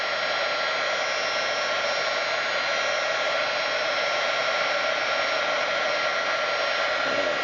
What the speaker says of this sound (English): And then we're going to take our heat embossing tool.